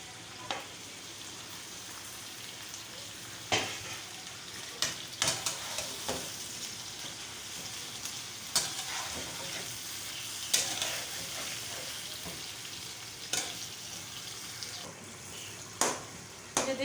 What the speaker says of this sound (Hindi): अब ये मैं टमाटर सारे इसमें ऐड करती हूँ।